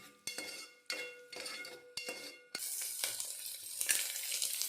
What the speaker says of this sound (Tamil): ஸோ ஆனியனை வந்து நல்லா ஃப்ரை பண்ணிக்கலாம்.